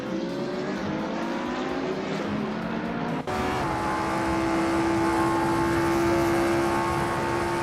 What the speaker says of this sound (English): Maya is currently in 8th place with the 2009 Alpina B6 GT3.